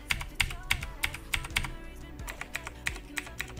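Keys on a Razer BlackWidow Chroma mechanical keyboard are pressed one at a time, sharp close clicks in an uneven, steady rhythm with no talking.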